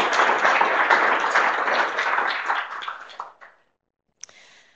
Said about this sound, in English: So please one applause for them.